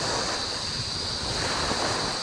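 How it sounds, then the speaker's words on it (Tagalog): Large ocean waves crash in steady, continuous surf during a strong typhoon in the Philippines, with gusty wind roaring across the microphone and no speech over the noise. "Tingnan mo malalaki ng alon"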